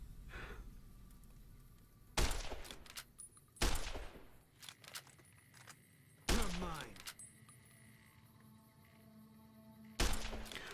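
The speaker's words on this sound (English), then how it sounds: "Fine. I'll use my sniper rifle." Sniper rifle fire in Fallout New Vegas, four sharp loud cracks spaced a few seconds apart, each with a short ringing tail, over quiet game ambience.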